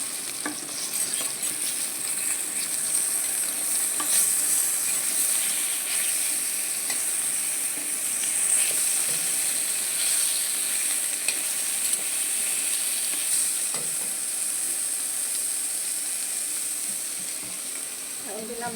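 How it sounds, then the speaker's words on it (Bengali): Eggplant frying and duck meat sautéing for a pilaf meal make a constant busy sizzle, with repeated scraping stirs of a spatula in the pan close by and no talk. "এটা চলছে কষানো, বেগুন ভাজা"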